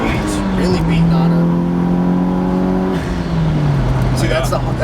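A turbocharged Mitsubishi Lancer Evo 8 engine revs hard, rising tones climbing through the gears with a shift break midway, heard from inside the car, loud, with people talking over it.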